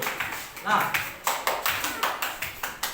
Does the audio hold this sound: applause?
yes